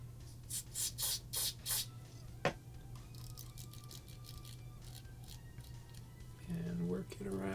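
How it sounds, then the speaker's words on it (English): Electric contact cleaner is sprayed into the volume wheel of an iHome unit in four or five short, hissing aerosol bursts close to the can, followed by a sharp click and quieter handling and scraping noises. "just spray it in there real good."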